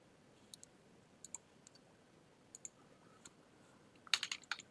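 A computer keyboard is typed on to enter a command in Command Prompt: a few scattered soft key clicks, then a quick close burst of keystrokes at the end.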